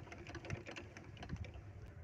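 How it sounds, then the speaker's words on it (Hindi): A domestic sewing machine runs on fabric that keeps bunching up, giving a faint, quick run of light mechanical ticking and clatter at low volume with no talking. "चलते चलते अगर आपकी सिलाई मशीन इस तरीके से कपड़ा इकट्ठा कर रही है"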